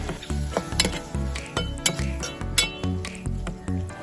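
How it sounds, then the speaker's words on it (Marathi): Squid masala sizzling in a pan with a spoon stirring and scraping rhythmically, repeated soft clinks and sizzles at a steady pace, close and moderately quiet. "आणि याला आपण 1 ते 2 मिनिटं परतून घ्यायचं आहे"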